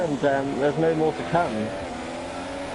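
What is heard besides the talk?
race car engine maxed out on revs in 8th gear, racing video game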